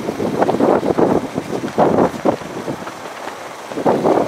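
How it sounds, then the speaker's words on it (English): Strong wind buffets the microphone in loud, uneven gusts, with rushing surges and brief lulls in between. "It's too windy, that's why."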